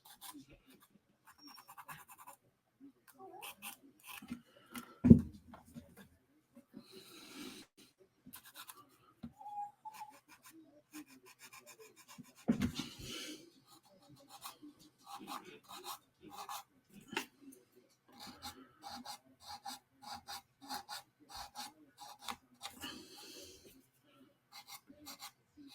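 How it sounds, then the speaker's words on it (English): Hand sanding of cured light curing putty gives repeated dry rasping strokes in short bursts, quiet and close, with a couple of louder bumps along the way. "Go ahead and sand that."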